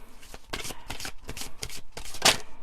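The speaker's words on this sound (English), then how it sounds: "Let's give 2 more shuffles" Riffle shuffling of a deck of oracle cards, repeated bursts of crisp card flutter at close range, with one louder sharp burst near the end and no talk over it.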